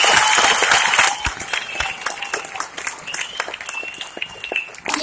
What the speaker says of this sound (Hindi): अपने लिए तो थोड़ी और जोर से बजा सकते हैं।